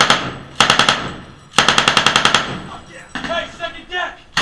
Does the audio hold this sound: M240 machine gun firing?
yes